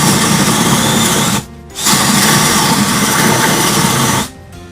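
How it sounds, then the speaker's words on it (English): A FastCap Spade Flush Mount drill bit bores holes in two loud, steady bursts of whirring power-drill noise, separated by a brief pause and ending abruptly, with no talking. "start your repeatable drilling"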